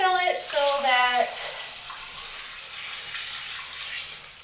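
Water runs from a tap into a bucket for a Wonder Washer, a steady broadband hiss that continues under a voice at the start and carries on alone afterward.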